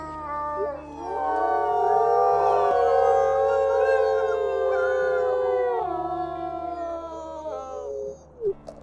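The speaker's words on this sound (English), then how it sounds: "Your howl is gorgeous, mister." A dog or wolf, named Soul in a pack setting, howls in one long, loud, sustained, wavering call lasting most of the stretch. Overlapping harmonics rise and fall before the howl tapers off near the end, with no talk over it.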